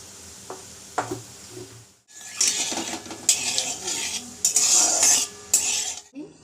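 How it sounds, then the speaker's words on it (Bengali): Black cumin seeds are dropped into hot oil in a wok. After two quiet seconds with a few light taps, a loud burst of sizzling and crackling takes over and keeps spitting unevenly to the end. "এখানে আমি কালো জিরে দেবো।"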